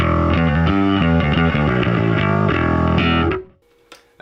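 Bass guitar played through a P-style pickup into a Line 6 Helix LT, a distorted riff of steady notes for about three seconds that then cuts off, leaving near silence.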